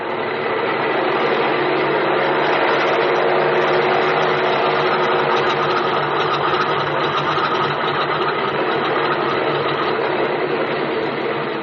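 An airplane engine in an old-time radio drama runs up for takeoff, a loud, steady, continuous drone that holds evenly throughout with no speech.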